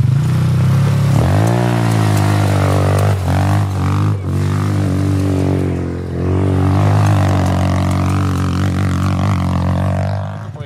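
Quad ATV engine running at steady throttle, a loud continuous mid-pitched drone with slight rises in revs, close by and dominant throughout.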